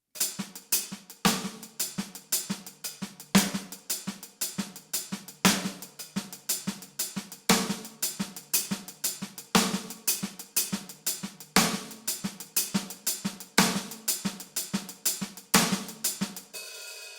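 A drum groove played by hands alone, with crisp snare backbeats and soft ghost notes between steady hi-hat strokes, a tight, repeating rhythm heard close and clean without voices.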